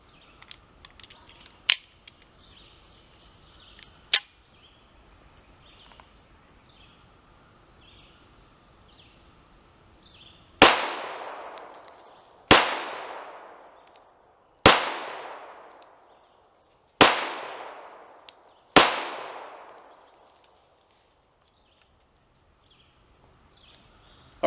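Five loud, sharp shots from a Tisas Raider pistol, each followed by a long ringing decay off steel targets, evenly spaced after a quiet stretch broken by two faint clicks.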